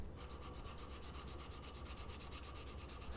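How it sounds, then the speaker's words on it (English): Steady, continuous rubbing of 220 grit sandpaper by hand over a katana guard, a dense even scratchy hiss with a faint rhythmic back-and-forth pulse, close and alone. "I decided to get everything to a nice 220 grit hand sanded finish beforehand."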